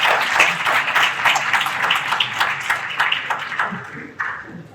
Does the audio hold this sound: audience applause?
yes